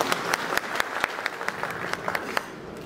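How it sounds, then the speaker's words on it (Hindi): Audience clapping at a Bhojpuri film launch (muhurat) ceremony for Mera Bharat Mahaan, steady applause from a seated crowd with sharper individual claps standing out, lasting the full few seconds. "एक ताली बजा के आशीर्वाद दें।"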